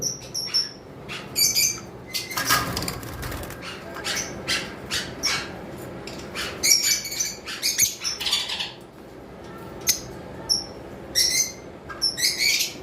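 Pet lovebirds and blue-throated conures in an aviary setup chirp and squawk constantly, with dense overlapping bright calls close by and an occasional rustle of wings.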